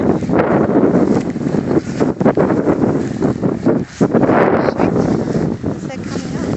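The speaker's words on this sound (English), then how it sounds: "Oh, windy here." Strong, steady wind roars across the microphone in loud buffeting gusts, almost drowning out everything else.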